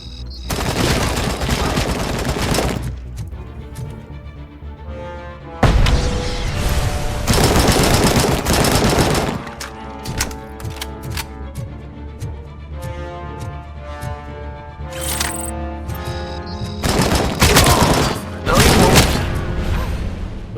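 Robocop fires his hand cannon in Robocop Rogue City, unleashing sustained rapid bursts of automatic gunfire, loud and close, with impact clatter and brief pauses between volleys.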